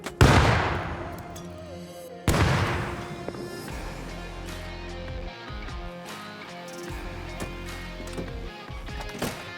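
Grenade explosions go off against a camper van in the survival game Rust: two sharp, loud blasts a couple of seconds apart, each trailing into a rumbling decay, followed by lower crashing and thumping debris noise.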